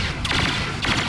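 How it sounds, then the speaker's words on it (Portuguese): Enemy gunfire in Star Wars Battlefront, two loud blaster-like volleys about half a second apart over a constant background of game noise. "Ó, os caras lá atirando."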